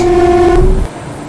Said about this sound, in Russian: Свисток.